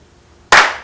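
A crowd at a speaking event claps once in unison, a single sharp, loud burst that fades quickly after a quiet moment.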